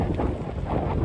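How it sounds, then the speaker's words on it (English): Wind buffets the microphone on a cold, early Tuesday morning, a steady low rumble with gusty swells that keeps going throughout, no voices over it. "It's a little bit windy."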